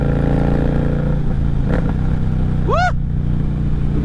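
An Indian Challenger motorcycle cruising on the road, a loud steady engine drone with wind rush up close, and a brief rising whine near the end.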